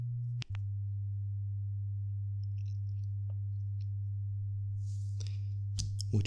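A steady, low pure test tone holds unbroken for several seconds, close and even, with only a brief dropout near the start and faint rustles toward the end.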